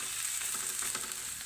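Garlic and ginger frying in a pan, a dense, even crackling sizzle close by, continuous for a moment with no voices.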